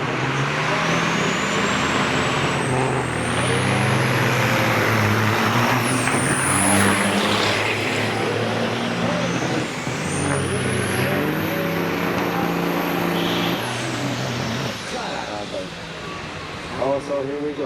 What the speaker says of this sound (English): God, I love truck racing.